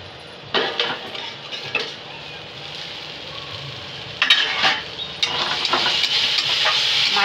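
Spice paste for a small bhetki fish curry (macher jhaal) sizzles in oil in a pan, with a steady hiss broken by several close, sharp clatters and scrapes of a utensil stirring against the metal.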